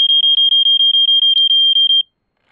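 A Square-D Earli-Gard EGD-5S smoke alarm sounds its test pattern: a loud, piercing beep repeated about a dozen times in quick, even pulses, then cutting off into silence.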